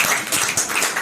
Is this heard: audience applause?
yes